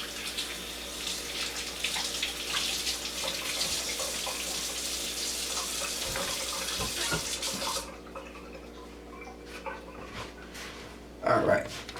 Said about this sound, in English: let me just rinse my hands off before I touch the pan